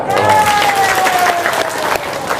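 A studio audience applauds in a steady, continuous wash, with a voice talking over it throughout.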